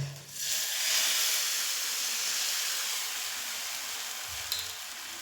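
Steady, loud sizzling hiss of wheat-flour batter frying in hot oil in a kadhai, continuous throughout with a slight swell near the start and no voices.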